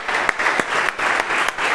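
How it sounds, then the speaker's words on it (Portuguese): Church congregation clapping hard in praise, a loud steady burst of many hands applauding with a few sharper claps standing out, no talk over it. "Pode aplaudir o Senhor Jesus aí bem forte"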